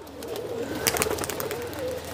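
A pair of pigeons coo softly and close by, with a burst of rustling or flapping midway through and low background noise throughout.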